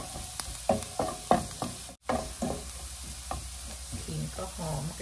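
Minced garlic stir-fries in a hot pan before pork and ginger go in, a steady sizzle broken by repeated scraping strokes of a spatula, close and clear with no talking.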